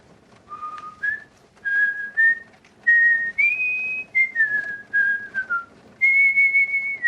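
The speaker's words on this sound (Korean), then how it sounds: "휘파람으로 프랑스 국가 라 마르세이에스를 부르기 시작했다." A person whistles the French national anthem, La Marseillaise, alone, in clear sustained notes separated by short pauses, close and fairly loud.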